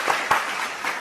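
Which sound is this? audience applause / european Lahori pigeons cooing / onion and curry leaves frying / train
audience applause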